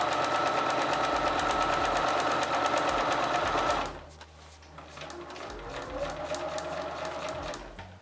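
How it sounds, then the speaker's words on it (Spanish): Sewing machine stitching leather, a loud fast mechanical whir for about four seconds that stops abruptly, followed by quieter low handling sounds. "Ahora continúa cosiendo hacia adelante hasta que llegues al final."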